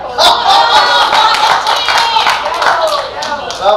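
Audience clapping at a live Hindi stage performance, a steady patter of many hands sustained throughout, with a voice speaking over it.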